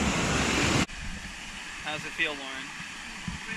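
A warm-water waterfall at Kerosene Creek roars as a loud, close rush of water that cuts off abruptly after under a second, leaving quieter ambience while a person speaks.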